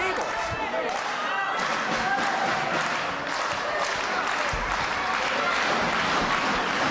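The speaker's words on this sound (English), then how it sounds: "Listen to this crowd, Eric." A crowd at a CZW wrestling show roars and cheers loudly and continuously, with scattered claps and shouts rising through the noise while a commentator talks over it.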